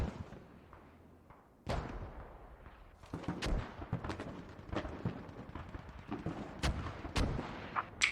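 Mortar and artillery fire in a tactical military video game, a rapid string of sharp booms and cracks of varying distance, some heavy and close, others fainter, without talk.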